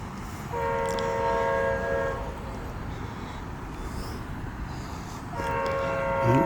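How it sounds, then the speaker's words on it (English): A loud Amtrak train horn sounds in two long multi-tone blasts, one early and one near the end, over the steady rumble of a moving train in Plant City, Florida. "Can really hear the whistle on this one. Or the horn, I should say."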